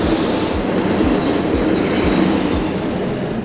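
A Swiss train on the Jungfraujoch line runs through a station, with a steady loud rumble and a rhythmic clickety-clack of wheels over rail joints at roughly half-second intervals.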